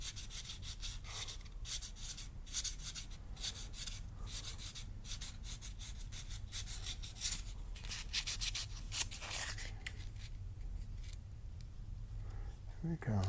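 A ring being sanded with 80-grit abrasive brushes on a rotary tool gives a steady, continuous grinding rub, close and even in loudness throughout.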